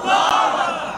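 A large crowd roars a loud, sustained religious takbir chant in unison at a Bengali Islamic sermon gathering, one continuous swell of massed voices filling the space.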